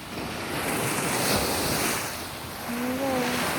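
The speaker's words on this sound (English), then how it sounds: "Boating by, so the waves come." Surf from the wake of a passing boat washing in continuously, with wind buffeting the microphone and faint engine hum near the end, no voices.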